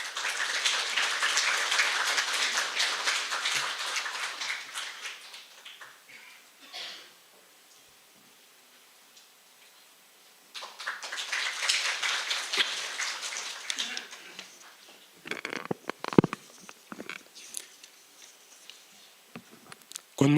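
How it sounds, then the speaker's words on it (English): Conference audience applauding as an attorney is welcomed to the stage at a North Korean human rights event, a broad clatter of clapping that fades out midway, then a second burst rises and tapers with scattered claps. "Let us open our conference by extending a warm round of applause to Attorney Kim Tae-Hoon"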